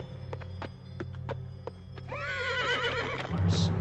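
A horse whinnies loudly in a long, wavering neigh that rises and then falls away, after a run of hollow hoof clip-clops on a hard floor and over a steady low hum.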